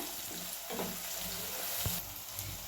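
Ginger and garlic frying in a pan with onion and tomato, a continuous soft sizzle with occasional scrapes and a brief knock of a utensil, close and quiet, with no talk.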